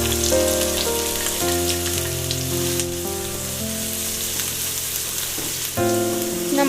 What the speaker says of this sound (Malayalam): ഇനി നമുക്ക് ഉള്ളി മൂപ്പിച്ചെടുക്കാം